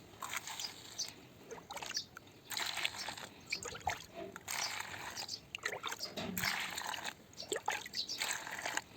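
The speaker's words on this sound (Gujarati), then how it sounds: "હમણાં પાણી નાખશું એટલે એનાથી 4 ગણો થઈ જશે" Water is poured onto maize cake cattle feed for a pregnant Gir heifer, giving a close, uneven splashing trickle in irregular bursts with brief pauses.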